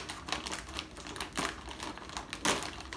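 Tough plastic snack packaging for yucca fries being torn open, sharp crinkling bursts and crackles in three or four uneven spurts, close and fairly quiet.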